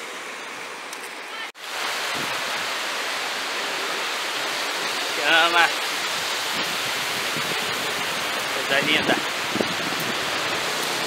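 Steady broadband roar of the Tamanqueiro waterfall and river rushing over rocks at Santo Aleixo, Magé, loud and continuous, with brief voices speaking over it.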